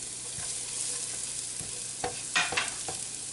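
Onions frying in melted butter in a pan over medium heat, a steady soft sizzle with a few louder stirring scrapes and clatters near the end.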